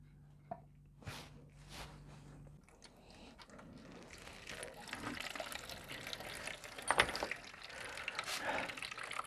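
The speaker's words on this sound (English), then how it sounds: "Right now, open the drainage." Coolant drains from the opened drain of a Silverblade cooling system during a flush, a faint trickle that swells into a steadier splashing pour of liquid over several seconds.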